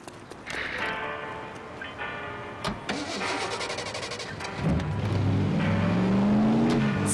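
A car engine cranks and catches in The Saboteur, then settles into a steady mid-pitched idle that rises into a low revving drone, close and fairly loud over background game sounds.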